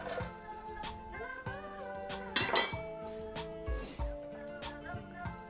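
Thinly sliced sunchokes dropped into a hot pan of olive oil, several clattering clinks of metal and pan against background music, with a brief sizzling burst in the middle.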